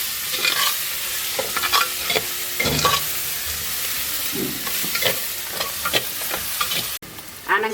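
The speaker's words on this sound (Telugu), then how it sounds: "ఇగో అల్లం వెల్లిగడ్డ పేస్ట్ వేసుకుంటున్నా. కొంచెం పసుపు వేసుకుంటున్నా." Ginger garlic paste and turmeric frying in a pan for a bottle gourd curry cooked with milk. A steady sizzle runs throughout, and repeated scraping strokes of a spoon stir the mixture close up. Nobody talks.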